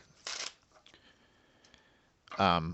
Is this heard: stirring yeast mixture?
no